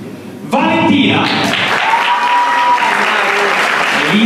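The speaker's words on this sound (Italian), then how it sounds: "Un applauso a questa ragazza" A studio audience at an Italian television talent show bursts into loud, sustained applause that begins abruptly and carries on evenly, with some voices mixed in.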